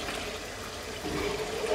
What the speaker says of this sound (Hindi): तो ये हम इसमें डाल देंगे अपना चिकन ब्रॉथ।